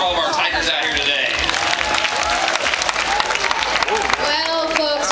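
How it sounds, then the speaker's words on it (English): A marine park show crowd claps for the tigers, a steady round of applause from a large audience, with a voice and cheering heard over it. "So about a big round of applause for all of our tigers out here today."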